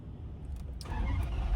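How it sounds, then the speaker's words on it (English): A loud car engine cold-starts and catches, settling into a deep, rumbling idle that grows fuller over a second or so, heard from inside the cabin. "All right, cold start. This car is very loud."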